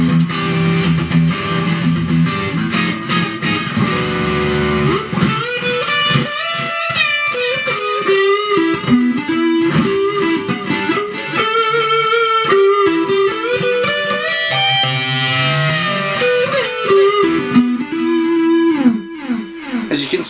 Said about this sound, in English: we're going to drop the distortion back down to more of an overdrive so we can go to the neck pickup.